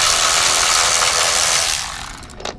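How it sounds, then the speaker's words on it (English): Ratchet removing screws while a power washer is taken apart for rebuild, heard as a loud close burst of rapid buzzing ratchet clicks that fades out over the last second, with no voices. "Start taking off screws"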